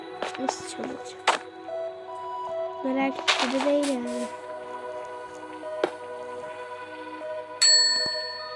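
A bell rings with bright, ringing tones among scattered clinks and knocks, ending in a loud, sustained chime near the end.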